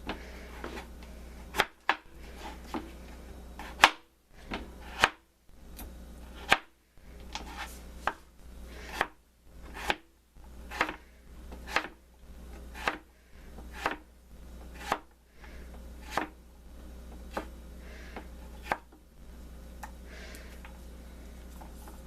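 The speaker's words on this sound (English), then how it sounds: "And I'm going to cut this into cubes." A knife chops a small homegrown Hubbard squash into cubes on a cutting board. Sharp, crisp strikes come in an irregular but steady series, about one per second, close and clear over a low background hum.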